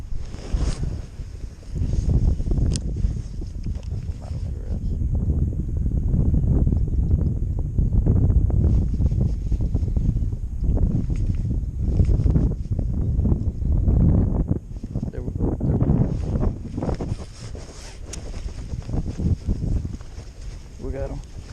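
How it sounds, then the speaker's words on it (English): Steady wind gusting outdoors on a cold fishing trip, broad rumbling buffeting against the microphone throughout, with people talking at times. "It's windy and cold."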